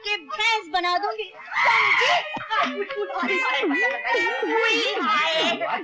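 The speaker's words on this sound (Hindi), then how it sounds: "क्या चिल्ला रही हो?" A woman screams and wails in long, wavering shrieks during a heated comedy-film quarrel at home, with other voices shouting close by.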